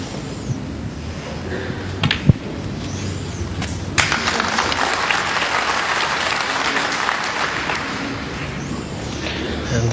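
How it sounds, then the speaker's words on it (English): A snooker crowd at the 2011 China Open breaks into applause after a single sharp click, clapping that swells and holds steady, with a quiet voice briefly underneath. "the crowd here being very fair to Stephen Hendry, applauding a lot of his shots"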